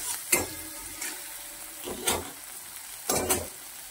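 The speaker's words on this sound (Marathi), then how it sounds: "कट केलेलं हे बटाटा घालायचं आहे। ते परतून घ्यायचं आहे।" Chopped potatoes sauté in a pan for a dal-potato mix with capsicum, giving a steady close sizzle broken by three louder scraping stirs, with no talking.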